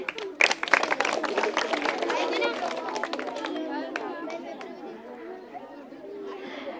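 A school audience at a quiz show claps and chatters, a burst of sharp hand claps at first settling into a busy crowd murmur with voices talking over it.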